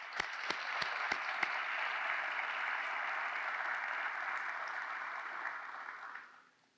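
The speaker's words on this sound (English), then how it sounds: "Colby Hall, I want to give you and your team a round of applause for your incredible work." Steady applause from a summit audience, a few sharp claps at the start, sustained clapping that fades out at the end.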